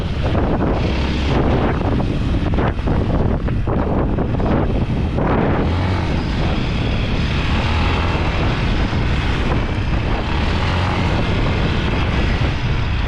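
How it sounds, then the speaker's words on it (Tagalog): Strong wind roars and buffets the microphone constantly, loud and close, with gusty rumbling throughout and no voices. "Ang lakas ng hangin."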